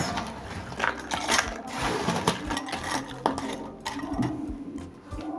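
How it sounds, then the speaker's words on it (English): A small electric grinder crushing dried plantain pieces into flour, with a close, loud, busy grinding rattle of hard chunks knocking about inside, uneven and continuous with brief surges. "it is time to grind our plantain into flour"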